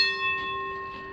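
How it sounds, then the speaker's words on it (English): A boxing ring bell is struck once, its bright metallic ring sustaining and slowly fading, clear and alone without talk. "And the bell has rung, ladies and gentlemen."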